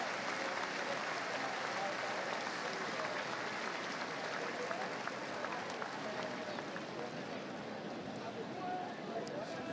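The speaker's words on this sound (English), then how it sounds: "An ovation from this Carter-Finley Stadium crowd here today as well" A stadium crowd at Carter-Finley Stadium gives a college football player a sustained ovation as he is carted off injured, with dense, steady applause and crowd noise filling the whole stretch, somewhat distant, while a commentator talks over it.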